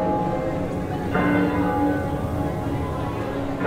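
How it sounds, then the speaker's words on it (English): A moving bell rings at the Epic Universe theme park, a few resonant tones sounding over crowd murmur and general park ambience. "Oh, the bell actually moves."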